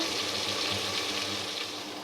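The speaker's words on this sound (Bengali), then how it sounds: "এবার তেলের ভিতরে আলু দিয়ে দিব" Sliced potatoes frying in hot oil produce a steady, dense sizzle that holds at an even loudness throughout, with no talking.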